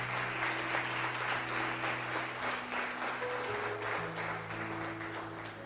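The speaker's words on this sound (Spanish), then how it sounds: "Dele palmas al Padre." A church congregation at a sermon applauds together in a sustained wash of clapping, with a held organ or keyboard tone beneath and a few voices mixed in.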